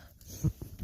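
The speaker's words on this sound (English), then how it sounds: "Of course, you can hear the dogs right now," A single short dog bark rises out of low background noise near the middle, followed by faint snuffling sounds.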